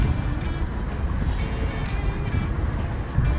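A Mercedes-Benz EQB electric car accelerates hard at full throttle, a steady low rumble of road and motor noise filling the cabin with no gaps throughout.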